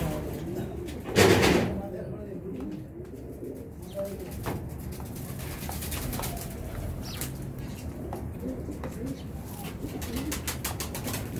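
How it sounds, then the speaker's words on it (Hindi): Low pigeon cooing murmurs close by, including a purple-feathered pigeon, with a brief burst of wing flapping early on and some voices talking in the background. "ये पर्पल पत्ती का कबूतर है"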